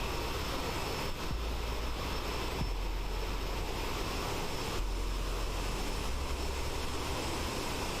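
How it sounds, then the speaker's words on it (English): A steady, unbroken roar from the jet engines of an Aerosoft CRJ aircraft in Microsoft Flight Simulator, cruising over South America, with a constant broadband hum and no talk. "By far the best aeroplane in the sim at the moment, the Aerosoft CRJ"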